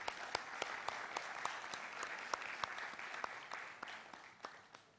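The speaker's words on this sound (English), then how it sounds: "Another round of applause for him" Applause from an audience at a mentorship session, a steady spread of clapping with sharp individual claps standing out, moderately distant and continuing throughout without talk.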